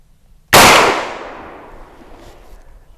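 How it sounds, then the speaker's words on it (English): A single loud shot from a Marlin Guide 45/70 rifle fitted with a red dot sight, fired at a target outdoors, a sharp close blast followed by a long fading echo. "So we're going to fire another round now."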